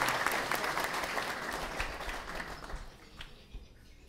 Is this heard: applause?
yes